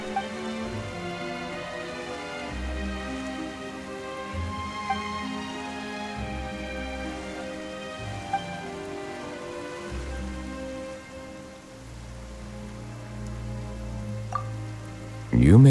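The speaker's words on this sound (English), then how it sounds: "Why is it raining all of a sudden?" Steady rain falls in a fantasy video game cutscene, a dense continuous patter over sustained background music, close and even throughout with a brief sharp sound near the end.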